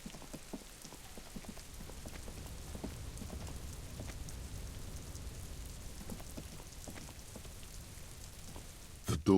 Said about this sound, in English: Oh, rain.